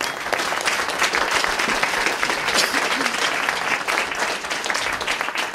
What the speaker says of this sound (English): I'd like to give an applause to the panelists and say thank you.